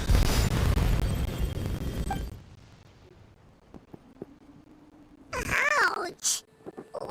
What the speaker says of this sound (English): You were all caught in the shockwave of the explosion.